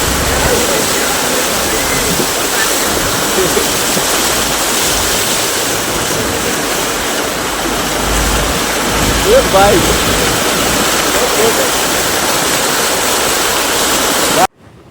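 Steady, loud rush of floodwater flowing from paddy fields over a road, filling the whole scene, a constant broadband roar like water pouring across open ground.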